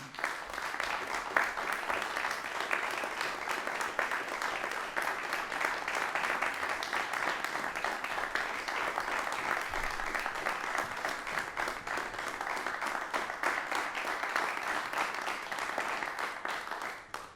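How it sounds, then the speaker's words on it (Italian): A theatre audience at an autumn matinée applauds steadily to welcome a pianist and a violinist, with even, continuous clapping from many hands heard at a moderate distance for over fifteen seconds. "dare il benvenuto ai due maestri con un applauso, il maestro Nicola Fregonese e il maestro Giorgio Sini"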